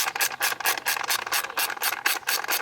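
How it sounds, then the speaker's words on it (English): A 10 mm wrench working loose the screws on the airbox of a broken Shadow motorcycle, giving a quick, even run of about a dozen close raspy ratcheting clicks with no voices. "Now you get the 10 mil. And loosen up these 2 screws up here."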